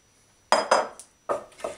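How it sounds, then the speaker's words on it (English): A knife chops tomatoes finely for Lebanese tabbouleh, giving two pairs of sharp, close knocks on a cutting board with faint clinks in between. "So I'm chopping the tomatoes really, a small size, a small chop, a little bit fine, for the tabouleh."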